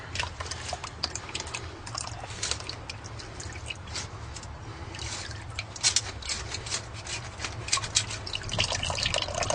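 Fluid drains and patters out of a vehicle during an oil change, a steady close trickling and dripping that carries on without pause and swells slightly toward the end, with no voices.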